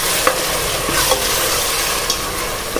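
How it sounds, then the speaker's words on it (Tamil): Ground mint, coriander, chilli and ginger-garlic paste sautéing in oil for biryani, a dense loud sizzle throughout with a few soft stirring scrapes, brief and close with no speech. "நல்லா வதக்கி விட்டுக்கோங்க."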